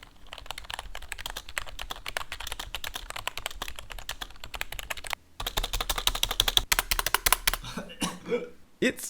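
Rapid typing on an all-plastic Armageddon AK666X membrane keyboard, a continuous stream of close, hollow clacks and taps that pauses briefly midway, then resumes before trailing off into a few scattered keystrokes.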